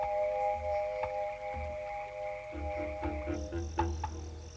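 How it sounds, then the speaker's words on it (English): A marine toad croaks in a short series of low, throaty pulses, close and fairly clear, set against a steady high-pitched tone and faint background hiss. "What about the marine toad?"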